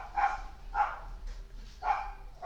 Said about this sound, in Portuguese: os cachorros ficaram loucos